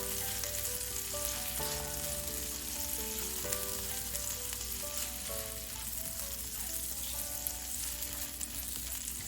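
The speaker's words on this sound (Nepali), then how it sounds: "अब केही बेर यसलाई पनि एकछिन राखेर यसरी फ्राई गरौँ।" Rice with green peas and garlic fries in a pan, a steady dense sizzle running unbroken throughout with faint stirring scrapes beneath, loud and close with no voices.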